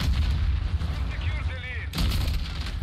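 Loud bursts of shotgun-like gunfire from a first-person shooter game played at 1440p, booming continuously with a sharp fresh blast near the end, under faint game effects.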